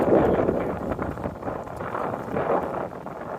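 Gusty wind buffets a microphone on a railroad bridge, a low rumbling roar that swells and eases in uneven waves with no voices over it.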